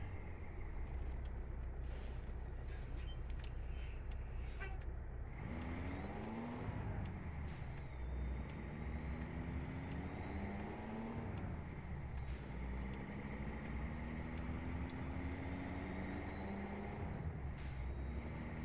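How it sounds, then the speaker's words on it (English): A heavy truck in American Truck Simulator rumbles under engine braking, with a loud, steady low drone as its pitch sweeps down and climbs again through gear changes. An air brake hiss is also heard, and there is no talk. "There's a little engine brake here."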